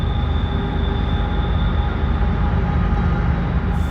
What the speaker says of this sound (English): there is the end of the train is also another engine, which is why you're hearing the